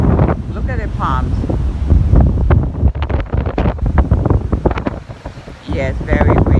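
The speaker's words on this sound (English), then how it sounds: "Yes, very windy, Denise." Strong wind buffets the microphone with heavy rumbling gusts near palm trees, while a person talks intermittently underneath.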